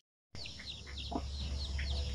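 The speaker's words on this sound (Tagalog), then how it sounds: "Meron tayong 45 days old na mga sisiw dito." Forty-five-day-old chicks of pure Zampen, Basilan and Shamo Aseel breeds peep and chirp together nearby, a steady scatter of short calls over a constant low hum, with no talking.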